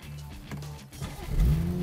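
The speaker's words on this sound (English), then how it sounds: "at full throttle, you wouldn't even need to raise your voice to carry on a conversation" A 2016 BMW 340i xDrive sedan under full-throttle acceleration, its engine note climbing and building in loudness toward the end, heard from inside the cabin.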